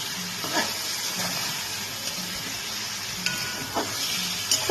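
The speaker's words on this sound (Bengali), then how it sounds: "মশলাটাকে দিয়ে একটু ভালো করে কষিয়ে নেবো আমি" Spice paste mixed with water fries in a pan for a vegetarian chhana bora curry, a steady close hiss and sizzle with occasional stirring scrapes and small sputters throughout.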